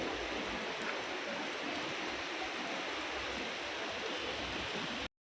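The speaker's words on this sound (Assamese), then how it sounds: "ইমান বৰষুণ দিছে।" Steady, dense hiss of heavy rain pouring without letup in Shillong, broadband and constant, then cutting off abruptly at the end.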